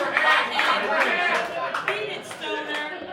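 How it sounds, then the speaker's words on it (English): Audience at a live comedy game show claps and cheers for an eliminated contestant: a steady, fairly loud wash of applause with whoops and voices mixed in throughout. "Guys, clap it up for Brian."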